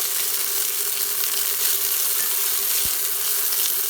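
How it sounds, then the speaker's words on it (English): Green onions browning in a hot pan for a pork stir fry, a steady, close sizzle running unbroken throughout with one brief low thump near the end. "really browning up these green onions"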